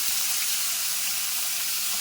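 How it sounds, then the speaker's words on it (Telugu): Thinly sliced onions fry in hot oil for a chicken curry, giving a constant close, bright sizzle and hiss with no talking. "సన్నగా తరుక్కున్న ఆనియన్స్ వేసేద్దామండి"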